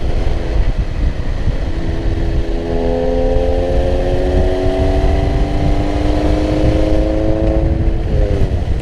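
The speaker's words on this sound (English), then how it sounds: "This is the most irritating muffler I've been behind in a while." Loud, rumbly exhaust of a car just ahead in traffic, droning steadily throughout with rising engine harmonics as it accelerates, heard from close behind and with no talk over it.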